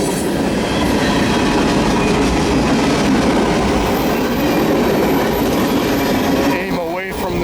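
A CN railway mixed freight train, eastbound with locomotive 2808 leading, rumbles past near the Ingersoll, Ontario station with a loud continuous roar and rolling wheel clatter that drops off at the very end.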